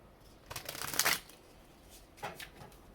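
A deck of tarot cards being shuffled close up, one crisp riffle followed by a shorter, softer second shuffle.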